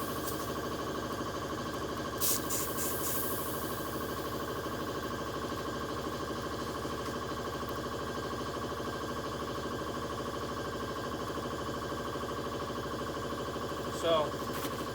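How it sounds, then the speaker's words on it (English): An air compressor in a workshop with a homemade sandblasting cabinet runs with a steady, droning motor hum that holds at an even level for the whole span, with a couple of faint clicks over it. "the compressor just came on"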